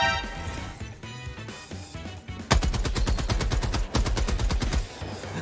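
A rock turret stratagem in Helldivers 2 opens up with a fast, loud, evenly spaced rattle of shots after a busier stretch of battle noise, with one brief break in the firing.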